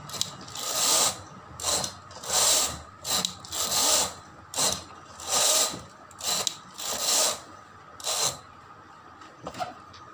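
A knitting machine carriage working plain stitches for a baby frock border, producing about eight steady rasping, clattering sweeps back and forth in an even rhythm, with short pauses between strokes.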